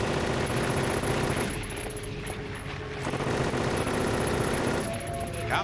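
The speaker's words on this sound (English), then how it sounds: "we are shooting our big gun" A big gun fires repeatedly in Silent Hill 3's Nightmare Hall, sustained heavy bursts of gunfire that stay loud and dense throughout, with a brief dip in the middle.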